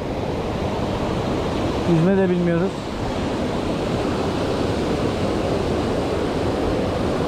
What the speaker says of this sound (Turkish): Şelaleye düşmeyelim.